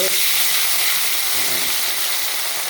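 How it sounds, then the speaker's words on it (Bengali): Pieces of poa (bhola) fish go into hot oil for frying, giving a loud, continuous hiss and sizzle that holds steady throughout. "এক এক করে মাছের গাদাগুলোকে আমরা দিয়ে দিচ্ছি গরম তেলে"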